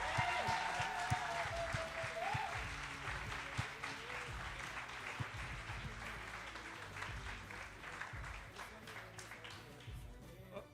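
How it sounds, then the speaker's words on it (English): An awards ceremony audience applauds steadily, a dense wash of clapping that carries on at even strength from start to finish, fairly faint and distant. "could we have a round of applause for them"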